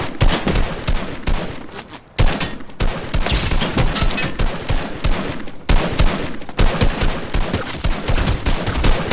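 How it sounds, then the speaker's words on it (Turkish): Dense automatic gunfire and repeated shots from a Fortnite-style video game battle, loud and nearly continuous, with short gaps between bursts. "Çatışma aha bize sıkıyorlar."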